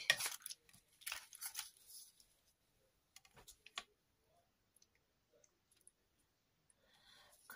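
Scissors cutting a paper window envelope, with quiet close snips and crisp paper rustles in short bursts separated by near silence.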